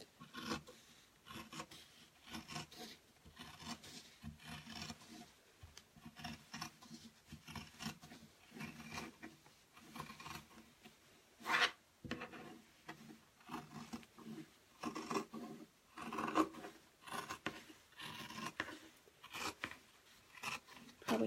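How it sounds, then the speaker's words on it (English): Repeated crisp snips and rasping cuts of scissors through fabric, an uneven rhythm of close, soft crunching strokes with brief pauses between. "I'm just using my fabric scissors."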